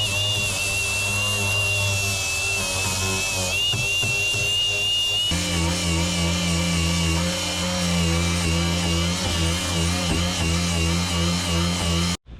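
Power grinder working the edges of a Mako 171cc boat hull, a continuous high whine that drops in pitch and grows heavier partway through, loud and close with no talk, then cutting off abruptly at the end.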